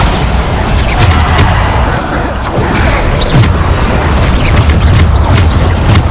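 Bombarda spell blasts in Hogwarts Legacy, a steady run of deep booming explosions and crashing bursts layered over continuous loud game combat noise, with no gaps across the stretch.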